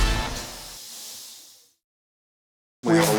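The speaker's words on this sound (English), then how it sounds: "We're adding spray foam in the ceiling to keep really the pipes from freezing" Spray foam hisses steadily as it is sprayed into a ceiling during home renovation, a broad close hiss that fades and cuts off, followed by a brief louder burst at the end.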